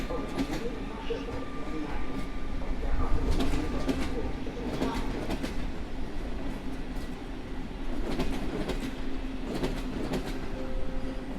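An EU160 locomotive hauling the Kujawiak train passes through Warszawa Zachodnia station in snow, a steady loud rumble running throughout, with pigeons cooing nearby and occasional voices in the background.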